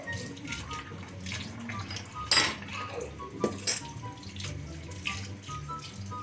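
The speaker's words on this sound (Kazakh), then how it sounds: "Қасықтарды шайып атыр" Spoons and cutlery clink and rattle against dishes under running tap water while being rinsed during washing-up, with sharp metallic clatters scattered through a soft watery background.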